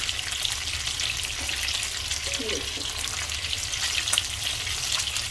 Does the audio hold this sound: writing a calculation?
no